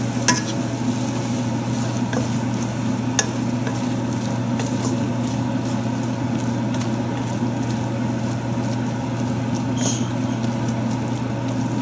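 Green chilies and salt going into a hot biryani pan, a steady continuous sizzle and low hiss throughout with faint occasional ticks, close and even in level.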